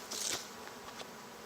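Honeybees buzz around an open hive during an inspection, a quiet steady drone with a louder close pass near the start and a few brief swells as bees fly near.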